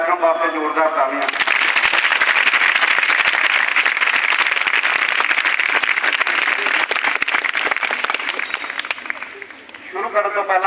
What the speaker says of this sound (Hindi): पहला तो वैलकम वास्ते जोरदार तालियां